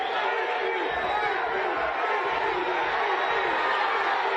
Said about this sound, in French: Mais la foule est bruyante